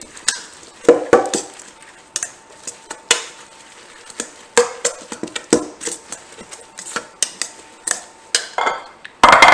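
Kale and local vegetables tossed with salt and olive oil, a utensil clattering and scraping against the bowl in quick uneven bursts, close and fairly loud.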